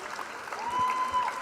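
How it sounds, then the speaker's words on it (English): Applause from an audience at a corporate celebration marking fifteen years of a company's stock exchange listing, a steady wash of clapping at moderate distance with a faint tone running through it. "Can we have a huge round of applause?"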